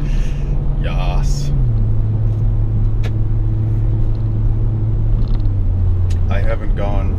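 A BMW F30 car drones steadily under acceleration at full throttle, its engine and road rumble loud and continuous throughout, with a slight shift in pitch early on and people talking over it.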